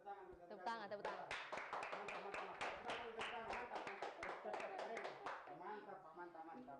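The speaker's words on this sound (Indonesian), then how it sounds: "Tepuk tangan, tepuk tangan." Rapid, close hand clapping from a small group on a Tribun podcast set, rhythmic and continuous throughout.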